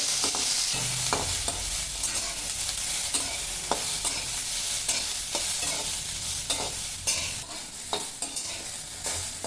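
Okra seeds dry-roasting in a pan are stirred constantly, producing a dense, crackling hiss with frequent scraping and rattling strokes close by, loud and continuous for several seconds without speech.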